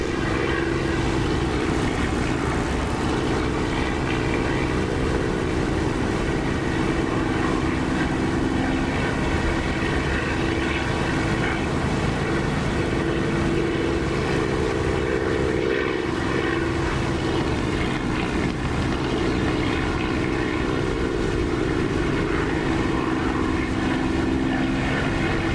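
Steady propeller aircraft engine drone from the DCS flight simulator, a continuous even hum that holds throughout as the throttle is eased back, with no voices.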